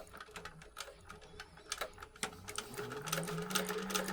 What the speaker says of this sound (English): I'm going to go back over to the sewing machine